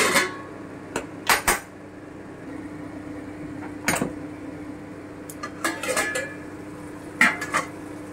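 Metal clinks and clatters from a cooking pot of mutton rezala being covered with its lid, a series of separate sharp knocks and rattles over a quiet low hum, close by.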